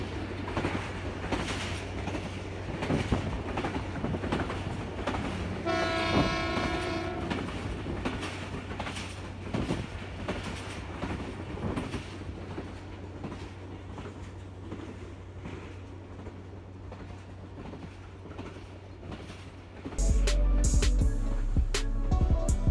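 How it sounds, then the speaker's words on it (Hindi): The 13 Up Awam Express passenger train crosses the Jhelum river bridge during monsoon rain, a loud continuous rumble and rattle of wheels on rails, with a horn sounding briefly midway and a louder rush near the end. "थर्टीन अप अवाम एक्सप्रेस जेलम का ब्रिज क्रॉस कर रही है।"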